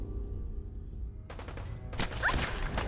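Gunfire bursts out in Fallout 4: after a quiet stretch, a rapid volley starts and then a louder, denser burst follows, with the shots ringing out close.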